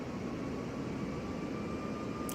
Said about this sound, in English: Here it starts. You hear it? Hear the engine?